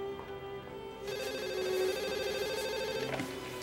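A telephone rings indoors, its bell tone steady and moderately loud, growing fuller after the first second and continuing with no voices.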